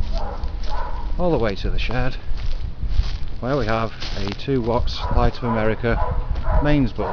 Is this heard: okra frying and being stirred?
no